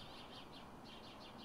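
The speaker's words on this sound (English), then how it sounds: "The loud chirping noises you hear in the background are house sparrows." House sparrows chirp in the background, a steady stream of repeated bright calls at moderate loudness running continuously throughout.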